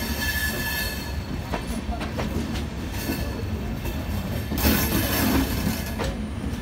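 Katihar–Amritsar Amrapali Express arriving at Ludhiana Junction, with steady rumbling rail noise, wheel clatter and some squeal, a louder surge near the end, and faint station background.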